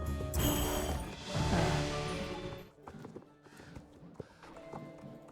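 Horse hooves in the Star Stable Online video game, rhythmic clip-clop steps under a rushing wash at first, then a quieter run of distinct hoof beats at an even pace.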